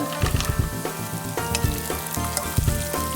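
Onions fry in hot oil with cashews and raisins for a Malabar egg snack, giving a steady close sizzle broken by irregular stirring clatter and scrapes, with no talking.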